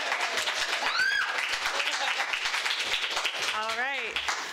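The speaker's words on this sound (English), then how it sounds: "So now, please give a round of applause for our Midwest Regional Coordinator, Casey Mackey." Audience applause for a speaker at a political movement's national convention in St. Louis, a dense steady clatter of clapping throughout, with whoops and cheers rising over it.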